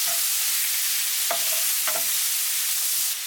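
Squid with grated ginger stir-fries in a pan for yakisoba, hissing steadily and loudly, with two quick scraping stirs partway through.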